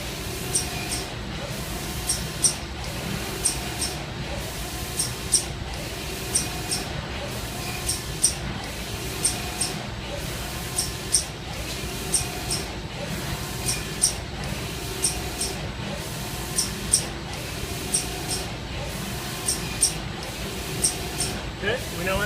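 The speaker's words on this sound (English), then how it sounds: "You go to the flush mode. Enter the conveyor to manual. Spray until you have acetone." A Cefla Prima finishing machine in flush mode sprays acetone with its conveyor set to manual, giving a continuous hissing spray with a regular ticking, cycling mechanical rhythm.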